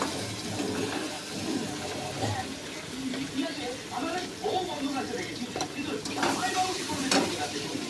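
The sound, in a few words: onions frying in a pan with salt, turmeric and chili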